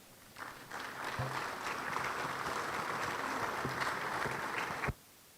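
An audience at a seminar on war games applauds to welcome a speaker, a steady, moderately distant round of clapping that swells quickly, holds for several seconds, then cuts off abruptly.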